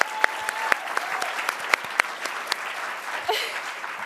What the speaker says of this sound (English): Can we have another round of applause for everybody who's read so far?